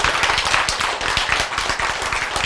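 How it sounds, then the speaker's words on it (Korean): An audience claps during a Korean lecture on healthy eating, loud, brisk and continuous clapping from a close group with no talk over it. "박수. 예."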